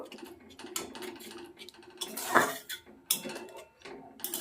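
A utensil scrapes and clinks around a pan as fish curry masala is stirred with added water, giving irregular metallic knocks and scrapes up close with no talking.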